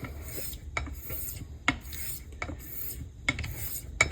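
Straight razor honed on a sharpening stone in an Arkansas-stone progression: soft rasping strokes repeat every second or so, with faint scraping clicks at stroke ends over a low steady background hum.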